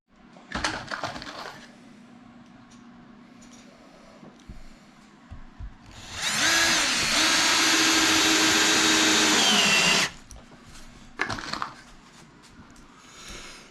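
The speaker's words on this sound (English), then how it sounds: "You can see that's why I'm countersinking them a little bit." A power drill countersinks screws into a wooden cat tower, with a sustained whining burst of about four seconds in the middle, bracketed by clicks, handling knocks and quieter setup noises.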